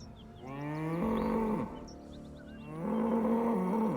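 An ox in the Baldur's Gate 3 video game gives two long, deep, close moos that rise and fall, separated by a brief pause, with no talk over them.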